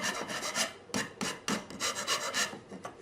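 Hand rounding the corners of a wooden tenon for a Japanese shoji screen, a quick series of close, dry rasping strokes in an uneven rhythm, with short pauses between bursts.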